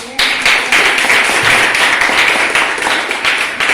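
A classroom audience at a junior high school claps after a poem reading, a loud, close burst of many hands starting abruptly and holding steady, with a few sharper individual claps standing out.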